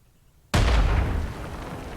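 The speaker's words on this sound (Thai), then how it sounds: "เซตระเบิดไปก่อนครับ" A single loud grenade blast in the mobile game Badlanders hits abruptly out of quiet, a deep boom that rolls on and slowly fades.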